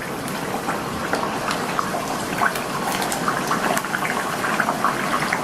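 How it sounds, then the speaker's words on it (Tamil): Vada dropped into hot oil fry with a steady, dense crackling and bubbling hiss, continuous and fairly loud with scattered sharper pops throughout. "ரெடி பண்ணி வச்ச வடையை ஒவ்வொன்றா எண்ணெயில் சேர்த்துடலாம்"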